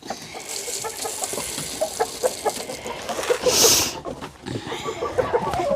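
Backyard chickens clucking and murmuring as they are fed mealworms and scratch grains, a steady run of soft, close calls with a brief louder burst midway; a person speaks to the flock now and then.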